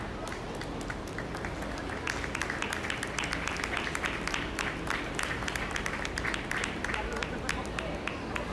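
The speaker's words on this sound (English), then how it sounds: "Give them a round of applause as I do so." Audience clapping at a 4-H/FFA dairy cattle show after the grand and reserve champions are named, a sustained patter of scattered hands in a large barn arena, with some background noise mixed underneath.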